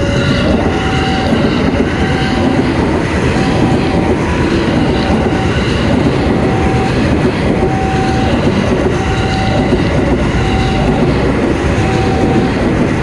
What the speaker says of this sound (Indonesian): ini kita lihat keretanya, teman-teman